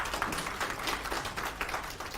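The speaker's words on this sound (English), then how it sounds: "give a round of applause to Head of Public Service" An audience at a pension scheme annual general meeting claps together, a dense, steady patter of many hands held at an even level for a couple of seconds, with no talking over it.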